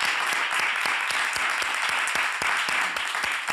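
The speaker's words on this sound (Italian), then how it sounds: "siamo in tanti in studio ad applaudirla" A studio audience on an Italian television show breaks into sustained applause, a dense, steady wash of many clapping hands with no voices over it.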